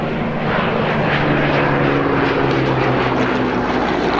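A loud, close 1,030 horsepower Rolls-Royce Merlin V12 aircraft piston engine, in a rare Mark III aircraft at an air pageant, roars steadily with a deep droning hum and no voices.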